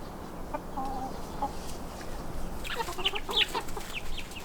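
Chickens cluck softly in short bursts, a few clucks early and a busier cluster later, over low outdoor background noise.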